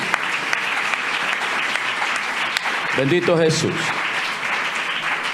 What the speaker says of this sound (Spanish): Dele mejor ese aplauso al Señor.